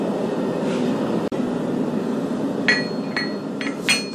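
Hammer blows on hot steel while forging a hammer drift, a few sharp metallic strikes ringing out near the end amid steady workshop noise, with one isolated clack earlier.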